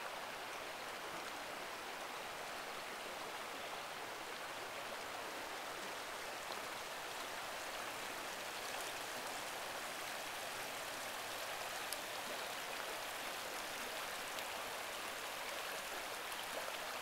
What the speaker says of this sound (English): This river.